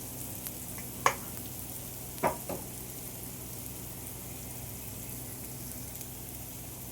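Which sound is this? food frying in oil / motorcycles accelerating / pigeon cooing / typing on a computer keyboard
food frying in oil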